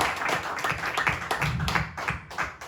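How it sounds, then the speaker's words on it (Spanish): A Spanish-speaking church congregation gives a round of clapping during a sermon, with loose, uneven hand claps close by that sound like a small group rather than a large crowd. "Démosle un fuerte aplauso"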